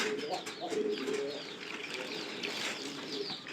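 Hungry pigeons, unfed since morning, coo softly and shuffle nearby, with faint wing flutters and small chirps mixed into a quiet continuous murmur.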